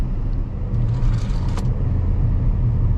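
A 2025 Chevy Equinox with a 1.5-liter turbocharged four-cylinder drives steadily, giving a low, even cabin rumble of engine and road noise with a faint click.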